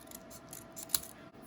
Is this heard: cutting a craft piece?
yes